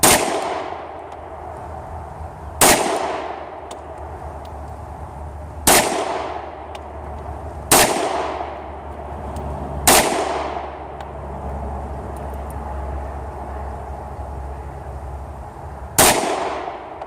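Gunshots at 15-yard targets during off-road three-gun competition practice: six loud, sharp reports spaced two to three seconds apart, each with a ringing decay, over a steady low background hum.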